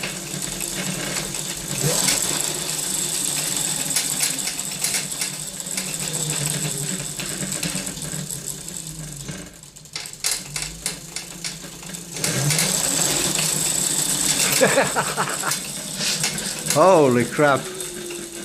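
A homemade e-bike driven by a car alternator motor whirs steadily with a mechanical rattle, dips briefly to pulsing bursts midway, then revs back up; a man exclaims briefly near the end.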